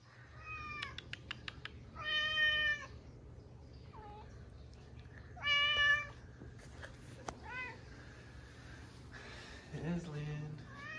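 Several meows from a pet cat named Aslan, some in quick clusters and others drawn out, close and fairly loud over a steady low hum, with a short rough yowl near the end.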